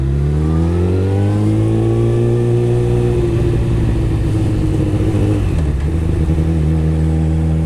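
A motorcycle fitted with a full decat exhaust and quickshifter revs loudly and rises through gears, the engine note climbing, dropping at a shift, then pulling again up close with no talk.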